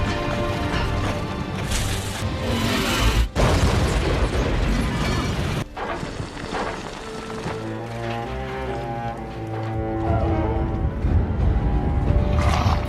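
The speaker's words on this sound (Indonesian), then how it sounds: "Prajurit muda itu pun meledakkan dirinya bersama dengan Tao Te." Loud film explosion as a soldier blows himself up, heavy booming blasts and crashing debris over a dramatic soundtrack, with a sharp burst near the middle and rumbling that continues to the end.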